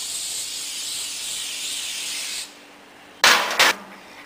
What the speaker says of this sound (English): Now I'm going to spray some non-stick grease